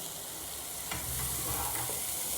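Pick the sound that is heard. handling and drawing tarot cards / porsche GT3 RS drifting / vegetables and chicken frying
vegetables and chicken frying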